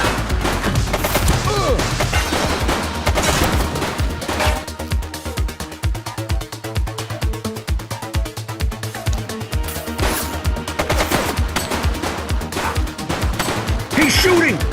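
Gunfire erupts in a police action video game, with dense rapid bursts of shots and booms repeating loudly across the whole stretch, with shouting voices mixed in.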